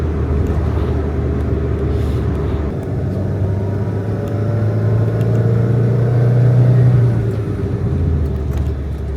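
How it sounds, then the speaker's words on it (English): A classic Renault R16 engine revs steadily, a low droning rumble that swells to a higher, louder pitch midway and then settles, close and continuous with no voices. "I've also revved it higher than I'd ever revved it before as well"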